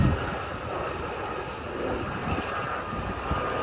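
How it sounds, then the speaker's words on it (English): Aérospatiale Gazelle helicopter at an air festival, a steady broadband engine roar with a high whine running continuously and fairly loud throughout, no talk over it. "with that high engine whine that you hear, it's been called the flying drumstick"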